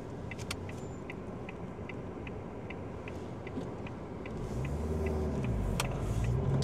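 A car's turn signal indicator ticks in an even, steady rhythm over road and engine noise inside the vehicle on a driving test route, with the engine rising slightly toward the end.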